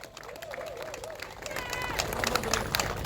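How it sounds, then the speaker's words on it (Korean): A crowd claps and cheers at an outdoor Korean political campaign rally in front of a campaign truck. The applause swells to a dense, continuous roar, and a voice speaks over it. "여러분, 박수 한번 크게 좀 보내주세요."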